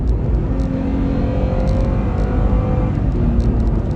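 A 3rd gen Toyota Tacoma accelerates hard from 40 to 70, its engine note climbing in a loud, continuous drone with rising tones as it pulls, heard from inside over road noise.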